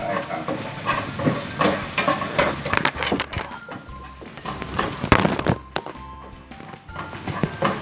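Garlic stir-fries in oil for Sichuan-sauce tofu, a close, uneven sizzle broken by repeated spatula scrapes and knocks against the pan, with no voices.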